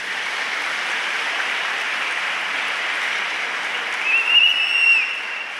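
Sustained audience applause at a Don Bosco national youth games ceremony, a steady dense wash of many hands clapping throughout, with a brief whistle rising near the end.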